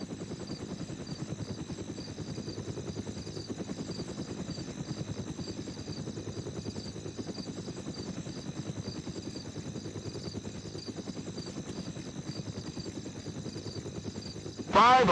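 Helicopter flying in ArmA: Cold War Assault, a steady rhythmic rotor thrum that drones on evenly for the whole stretch at moderate loudness.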